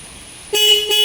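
A used car's horn sounds twice up close, a loud steady tonal blare, then a brief gap and a second blast, after a moment of quiet.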